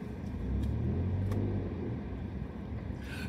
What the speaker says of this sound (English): So I'll just reverse up and we'll go out here.